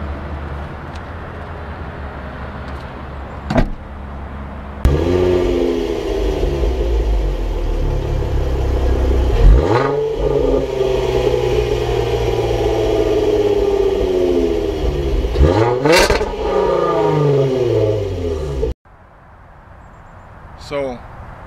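A 2014 Range Rover Sport engine cold-starts and revs loudly, with a steady rising roar, a couple of sharp rev surges, then a sudden cutoff near the end.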